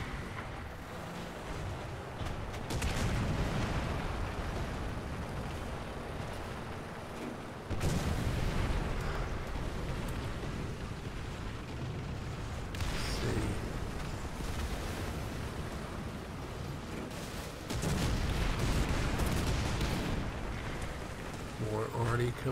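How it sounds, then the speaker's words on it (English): Incoming artillery shells land around a Japanese Chi-Nu II medium tank in War Thunder. Deep, rumbling impacts arrive in separate heavy surges every few seconds, over a constant low battlefield din. "More arty coming in."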